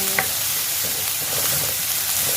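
Pounded ginger and garlic frying in a pan with sliced shallots for an Indian-style chicken curry, a steady close sizzle with a faint scrape of stirring, no talking.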